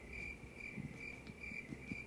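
Crickets chirp at night in a steady, high pulsing trill, repeating evenly, soft and somewhat distant, with faint low background noise and no voices.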